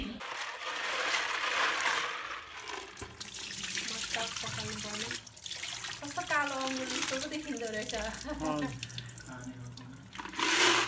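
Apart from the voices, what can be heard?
washing freshwater snails and clams in water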